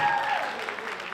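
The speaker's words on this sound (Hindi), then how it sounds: "एक बार तालियां मेरे लिए बजा दो यार।" Audience applause at a live music event, a short burst of many hands clapping that stays fairly even and fades slightly near the end.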